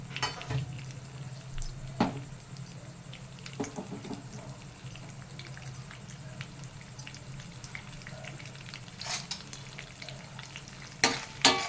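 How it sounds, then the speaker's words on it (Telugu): Mustard seeds, cumin, chana dal and dried red chillies crackle and sizzle in hot oil as tempering for tamarind rice, with a continuous hiss, sporadic pops and a few sharp utensil knocks. "ఆయిల్ వేడైందండి. పోపు దినుసులు వేసేసుకుందాం. మొత్తం ఆవాలు, జీలకర్ర, పచ్చిపప్పు, ఎండుమిరపకాయ,"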